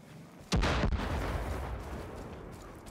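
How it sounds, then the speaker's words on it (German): A single loud blast goes off in Far Cry 5, a sharp explosive boom of gunfire or artillery. Its rumbling tail fades out over the next two seconds. "Der macht denn hier schon wieder Explosion?"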